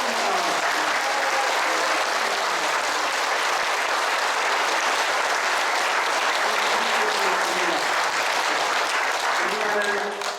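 Applause from a church congregation at a Catholic retirement thanksgiving mass for a priest, sustained and dense clapping filling the space throughout, with some voices mixed in.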